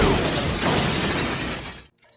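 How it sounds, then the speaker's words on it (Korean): A grenade round fired from a Lawgiver 2 pistol in a film goes off in a loud, sharp blast with shattering debris that roars for nearly two seconds, then cuts away abruptly to near silence. "폭발적인 위력을 자랑하는 그레네이드 모드,"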